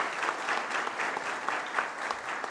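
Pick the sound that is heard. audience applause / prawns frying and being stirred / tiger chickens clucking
audience applause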